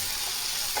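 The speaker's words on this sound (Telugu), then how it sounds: "సాల్ట్ మనకు తగినంత సాల్ట్ వేసుకొని ఫ్రై చేసుకోవాలి" Tomatoes with salt fry in a pan, giving a continuous dense sizzle and crackle that stays close and steady throughout.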